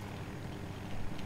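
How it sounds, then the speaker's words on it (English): A jet aircraft flies by in Battlefield 2042, a broad roaring rush of engine noise that stays steady and fairly loud for its brief duration. "Jet."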